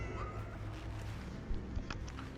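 A cat meows in the video game Cronos: The New Dawn, a brief, fairly faint call over a dim, rumbling ambient background.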